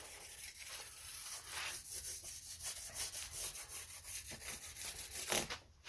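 A metal file scrapes along the beveled fret ends of a bass neck to cure fret sprout, giving steady rasping strokes in a close, continuous rhythm that briefly stop near the end.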